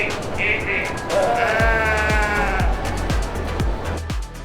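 Sheep at a livestock auction bleat several times in close succession, loud and near, over rhythmic thumping and background crowd noise.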